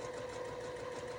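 A sewing machine runs steadily and close up, stitching fabric near the edge for an Easter basket, with a continuous even whirring hum and no voice.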